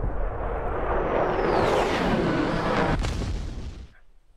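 Aircraft struck by a MANPADS shoulder-fired missile in the DCS flight simulator game, a loud roaring explosion that swells and rumbles for several seconds before cutting off.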